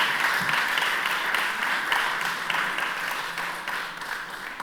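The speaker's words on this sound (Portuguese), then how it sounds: "Salve palmas, por favor." An audience at a philosophy masterclass applauds with a steady, mid-level round of clapping that holds evenly and fades slightly near the end.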